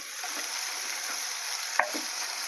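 Chopped onions with a little salt fry steadily in a pan for a tapioca upma, a close, even sizzle with one brief stirring scrape near the end and no talking.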